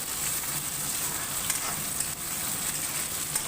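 Potatoes frying together with spice masala in a pan for a fish-head murighonto curry, giving a steady, close crackling sizzle with a few brief stirring clicks and no voices.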